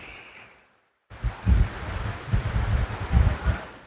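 Small streams rush and splash below Kundi waterfall in Kutch, a steady broadband wash of flowing water mixed with wind rumble, starting after a brief near-silent pause and continuing with gentle surges.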